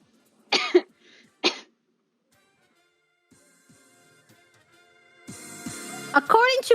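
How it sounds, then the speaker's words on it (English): A baby's short coughs, two close bursts followed by another, then faint rustling and a voice speaking near the end. "it says that one of staff wanted to submit a coughing baby"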